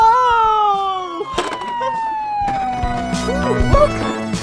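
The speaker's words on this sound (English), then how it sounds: "Whoa, oh, look, this is a police car." Toy-like police car siren at an indoor playground, a wailing tone gliding down in pitch, followed by clattering and rumbling ride noises with a voice briefly heard over it.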